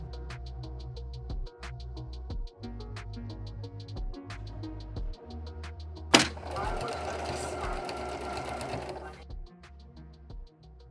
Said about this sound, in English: was able to sew my front panels to the back panel of the skirt